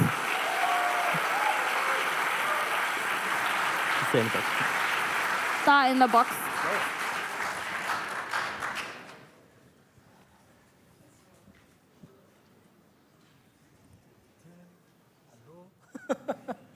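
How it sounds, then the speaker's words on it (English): An audience at a student startup contest final applauds loudly and steadily for about nine seconds before it dies away to a quiet room, with a few brief spoken words and taps near the end. "let's give them a huge applause"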